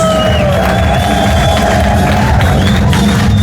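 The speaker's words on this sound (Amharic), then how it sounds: "እልልታ፣ ጭብጨባ፣ ክብር ለኢየሱስ።" A congregation at an Ethiopian church service bursts into loud, sustained ululation with clapping and cheering. High trilling voices ring out over a dense crowd roar.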